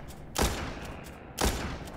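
Two sharp sniper rifle gunshots in the video game Walking Zombie 2 ring out about a second apart, each a loud burst with a short decaying tail over faint background noise.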